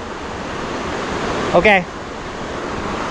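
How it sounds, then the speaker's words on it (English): A waterfall on a hiking trail in the Red Lodge, Montana area roars as a constant loud rush of water, with a brief spoken word cutting through midway. "Waterfalls are insane."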